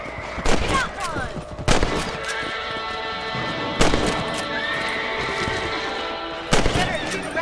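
In the Red Dead Redemption video game, four sharp rifle shots ring out at uneven intervals, with horses whinnying and hooves in between and faint game voices underneath.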